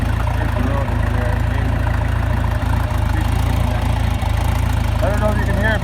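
An old John Deere 2020 tractor idles loudly at close range in a rural field, its diesel engine chugging steadily and continuously while a voice talks over it.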